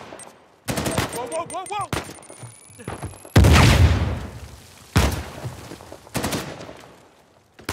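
Bursts of automatic gunfire and heavy shots in the Uncharted 4: A Thief's End video game, loud and close, coming in several separated volleys with a short exclaimed voice early on.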